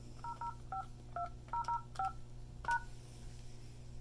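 Keypad tones from an Avaya J-Series IP desk phone as a password is entered: about a dozen short, clear dual-tone beeps at an uneven typing pace, alone over a faint background hum.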